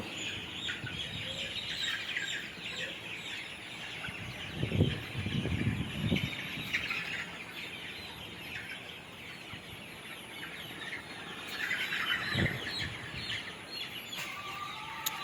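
About 1,900 chicks under electric brooders on a poultry farm chirp constantly in a dense, high-pitched chorus, with a few clucks and louder bursts rising now and then.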